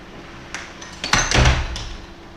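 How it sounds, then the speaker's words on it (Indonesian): An indoor door is pushed shut nearby, with light handling clicks building to a solid thudding close. "saya tutup pintu dulu"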